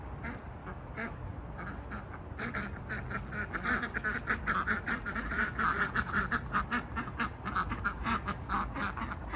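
A flock of ducks quacks near a house, with dense overlapping calls that build into loud, rapid bursts, close by and with no talking.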